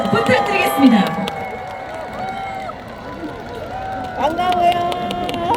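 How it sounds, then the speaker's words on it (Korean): A crowd cheers and claps for a trot singer at the closing ceremony of the 105th National Sports Festival in Gimhae. The roar stays steady and fairly loud throughout, with voices speaking over it. "큰 박수 부탁드리겠습니다"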